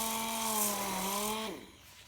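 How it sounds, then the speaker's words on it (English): A DA sander's motor hums steadily with a rough whirring hiss as it sands body putty on a car, then quickly winds down and stops. "I will stick the sandpaper to my DA sander and I will start sanding."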